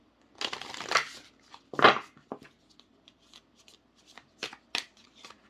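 Tarot cards being shuffled in a few brisk riffling bursts, close by, with quieter taps and slides of cards between them.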